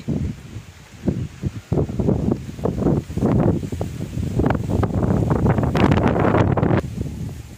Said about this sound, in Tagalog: Lakas na hangin dito.